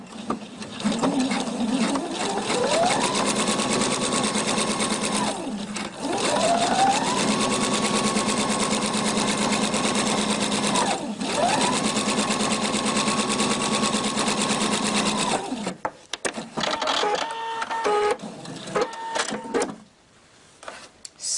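A Husqvarna Viking sewing machine stitching along a piping edge, with three long runs of fast, even motor whir that rise, hold and stop, followed by quieter clicks and clacks as the needle is repositioned.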